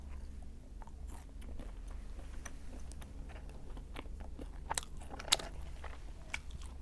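Crunchy biting and chewing of food close to the mic, with irregular crisp bites and a steady low hum underneath, during a solo drinking session with soju and beer.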